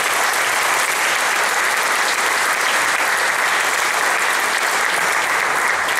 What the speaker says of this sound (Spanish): Yo creo que se merecen otro aplauso,